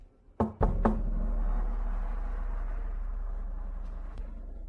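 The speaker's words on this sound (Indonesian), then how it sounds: "Mama tidak akan mengetuk. Yang mengetuk pasti bukan Mama." Three sharp knocks on a door in quick succession, loud and close, followed by a low sustained hum and one faint tap near the end.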